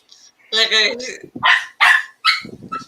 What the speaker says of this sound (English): the other one barking